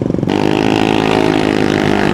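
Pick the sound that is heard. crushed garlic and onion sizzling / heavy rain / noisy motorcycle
noisy motorcycle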